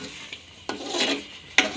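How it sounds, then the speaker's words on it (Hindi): A spoon stirs egg and rusk halwa in a pan over low heat, with soft sizzling under a few distinct scraping strokes, close and moderately loud. "अभी इसकी हल्की आंच पे हम इसको हिलाते जाएंगे"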